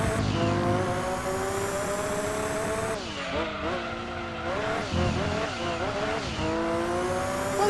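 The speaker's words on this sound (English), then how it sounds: "I almost never see the car drift in that peculiar part." Race car in Gran Turismo 2 on PlayStation drifting through a corner, engine revving hard with pitch rising and dipping while tires squeal and skid loudly, a continuous close roar throughout.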